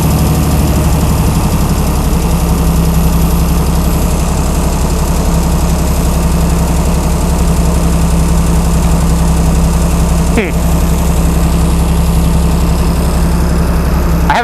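A Chrysler Slant 6 generator engine fitted with Holley Sniper EFI idles steadily and loudly up close, with a low rumbling drone and a faint knock, briefly interrupted by one short click.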